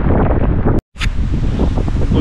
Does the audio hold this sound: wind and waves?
yes